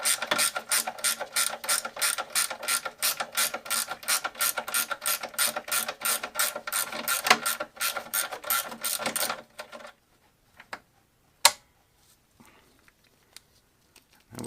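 A ratchet wrench loosening a front A-arm bolt on a Polaris Sportsman ATV, rapid repeated clicking strokes for about nine seconds, then quiet with a couple of isolated knocks.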